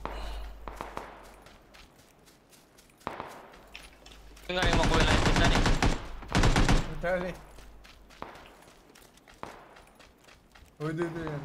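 Automatic AK rifle fire in PUBG comes in several bursts of rapid shots, some long and loud, others short and farther off, with footsteps between them and players talking over the action.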